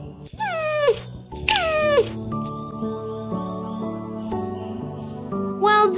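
Short high whimpering yelps from a puppy in a children's video game come in bursts at the start, middle and end, over a light plinking tune.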